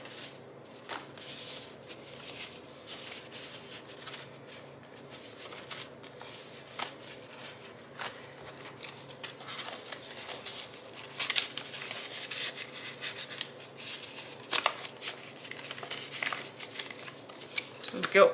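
Paper cash bills are handled and counted, then stuffed into a budgeting envelope, making soft rustling flicks and riffles that grow denser and louder toward the end, close up with talking in between.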